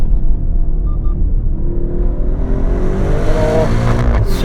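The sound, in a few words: Maserati Grecale Trofeo accelerating on winding road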